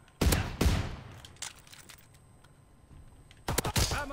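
Shotgun blasts in Call of Duty: WW2, two loud close shots in quick succession, a quieter gap with faint action, then another burst of sharp blasts near the end.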